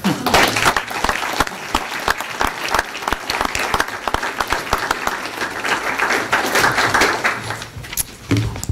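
Audience applause at a school board of education meeting, dense, sharp clapping close by that holds steady throughout with a few louder individual claps.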